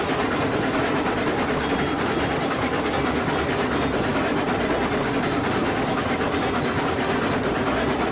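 Steam locomotive rolling along rails in the game RailRoads Online: a steady, dense rumble with continuous wheel-and-track clatter that holds at constant loudness with no voices.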